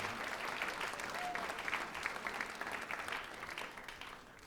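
Concert audience giving a sustained round of applause for a choir at a Rotorua music evening, dense steady clapping that holds for several seconds before easing slightly at the end.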